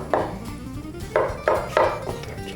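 A utensil scraping and knocking against a pot while butter is mixed into cooked noodles, with four distinct clinking taps, one early and three in quick succession near the end.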